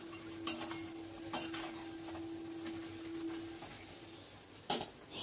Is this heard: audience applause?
no